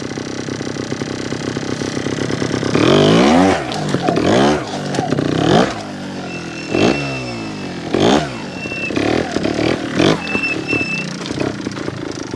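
A Honda Montesa 315R trials motorcycle engine revs hard in repeated sharp bursts, each rising and falling in pitch, with rattly mechanical clatter between blips; loud and close, with no talking.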